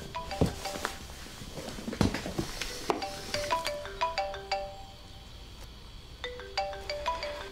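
A mobile phone plays a repeating melodic ringtone at moderate volume in a domestic drama scene, with faint rustling and footsteps beneath it.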